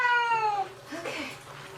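A cat gives a loud, close, drawn-out meow during its first bath, the cry falling in pitch and then trailing into a softer, strained wail.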